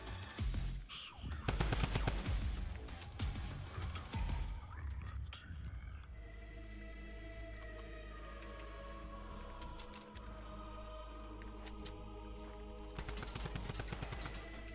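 Loud bursts of rapid gunfire in the Fortnite video game, with dense automatic volleys at the start and again at the end and quieter game sounds in between.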